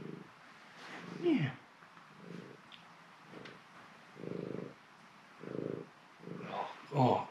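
A pet cat purrs up close, with soft, low rhythmic pulses rising and falling at a steady breathing pace against a quiet morning room.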